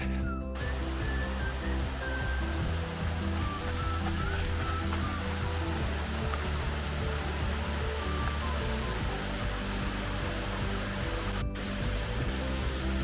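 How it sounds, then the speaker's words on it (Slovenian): Twin-tiered Zapotoški waterfall in Zadnja Trenta, Slovenia, roaring as a steady, loud broadband rush of falling water, close and unbroken throughout with no voices. "dvojni slap."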